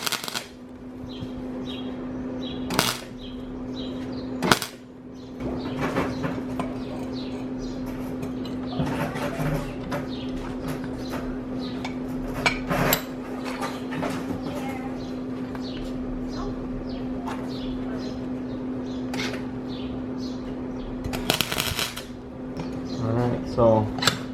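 A replacement catalytic converter pipe on a Honda Accord is tack welded in a few short, sharp crackling bursts spread over a steady electrical hum, with someone talking in between.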